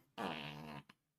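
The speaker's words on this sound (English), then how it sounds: "farted." A single short fart, loud and close, with a buzzing tone lasting under a second followed by a tiny trailing puff.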